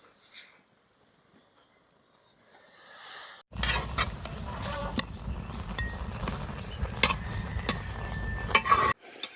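Leafy greens dropped into a hot pan of boiling water with chopped green chili, garlic and salt, a sudden loud sizzle followed by scraping stirring and utensil clatter that stops abruptly; quiet before.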